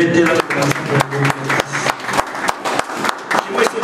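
Church congregation clapping loudly in praise of the Lord, a dense burst of applause with sharp claps and voices mixed in, sustained and close.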